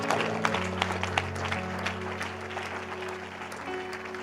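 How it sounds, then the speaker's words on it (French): A congregation at a lively church service applauds and cheers for Jesus, a steady wash of clapping and crowd noise with sustained music tones underneath, continuous throughout. "Quelqu'un acclame pour Jésus."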